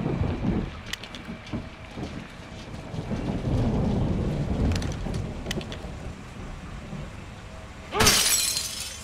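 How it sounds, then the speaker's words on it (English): Heavy rain falls steadily in a Call of Duty: Modern Warfare 2 (2022) mission, a dense hiss that swells midway, with scattered sharp cracks and a loud bright crash near the end. "It's raining fucking hard."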